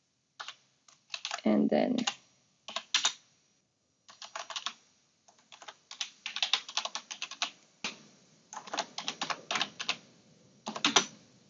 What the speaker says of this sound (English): I will just type set parm